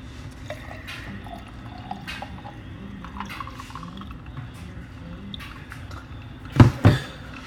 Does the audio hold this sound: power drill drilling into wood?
no